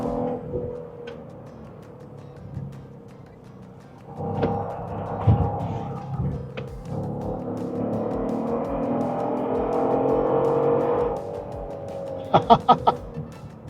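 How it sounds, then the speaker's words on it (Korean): A Genesis GV70 3.5 twin-turbo in Sport Plus mode builds from a low engine drone into a louder sustained turbo whine and rush, then a few sharp pops or flutters near the end, heard from inside the cabin. "야, 이렇게까지 터보 소리가 나는 차인지 몰랐네"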